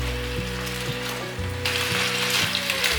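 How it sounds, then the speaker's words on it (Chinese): Cabbage being stir-fried in a pan at home makes loud, steady sizzling, with rhythmic scraping of the spatula against the pan and a mechanical hum underneath, close up. "可以来翻炒一下"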